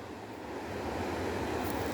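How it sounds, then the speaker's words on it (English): Ocean waves at Misty Cliffs on the South Atlantic near Cape Town wash in as a continuous broadband roar that slowly swells louder, with wind noise mixed in and no voices. "Let's go check out the ocean"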